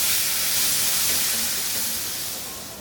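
Tomatoes cooking with salt in a frying pan give off a steady, close hiss and sizzle that slowly fades toward the end, with no talking.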